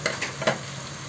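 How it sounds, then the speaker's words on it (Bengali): Vegetables stirred and fried with ground spices, onion and garlic for vegetable khichuri, a short burst of close sizzling with a few quick scraping stirs in the pan, no talking. "এই মশলার সাথে একটু ভেজে নেব।"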